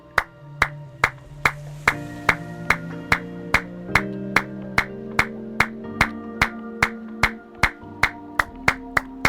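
Rhythmic hand clapping in a yoga exercise session, sharp evenly spaced claps repeating about twice per second, loud and close, over a soft sustained instrumental tone beneath.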